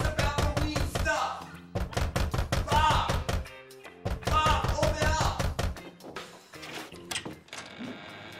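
Someone knocking on a door: repeated rapid bursts of loud, close raps, with shouting voices between and over them.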